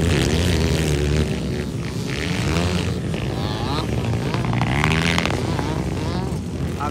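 Enduro racing motorcycle engines roar loudly and continuously at a local final heat in Lantapan, Bukidnon, with revving and shifting pitch, under a commentator's voice.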